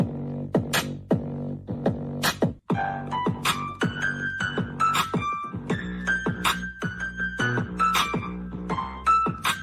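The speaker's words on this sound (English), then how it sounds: "You can even make a tiny beat." A small electronic beat with punchy kick and snare hits under short synth notes, looping in a steady rhythm with no talking.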